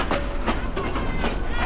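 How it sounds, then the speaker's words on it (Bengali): A moving passenger train rocking and swaying along a rural branch line, wheels clattering over rail joints in a regular clickety-clack rhythm, loud and close from inside the coach. "আর আমাদের ট্রেন এখন নৌকার মতো চলছে, নৌকার মতো করে এই যে হেলতেছে দুলতেছে"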